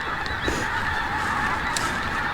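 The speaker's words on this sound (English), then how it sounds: "A lot of geese making a lot of noises." A flock of geese honks repeatedly outdoors on a farm, loud overlapping calls in irregular bursts close by, with no talking.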